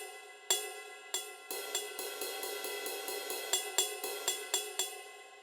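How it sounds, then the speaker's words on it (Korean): The ride cymbal pad of a NUX DM-310 electronic drum kit is struck about fifteen times. A few spaced hits are followed by a steadier run, and each strike rings with a bright, shimmering metallic wash. No voices are heard. "일단 가장 큰 이슈인 라이드부터 한번 들려드릴게요."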